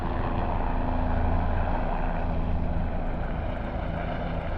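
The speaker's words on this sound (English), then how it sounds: "Gotta wait for that helicopter." A low, steady engine drone of a helicopter overhead persists throughout, loud and continuous with a faint rhythmic beat.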